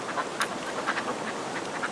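A pair of scaly-sided mergansers call on the Hantan River, soft quack-like notes repeating every few tenths of a second over a steady rush of flowing water.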